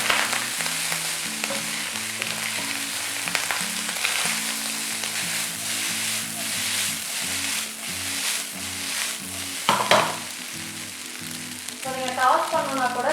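Chicken fried rice with chilli powder and garam masala stir-frying in a roadside Tamil street food pan, with a steady loud sizzle and scraping stirs, plus a rhythmic background beat and a brief clatter near the end.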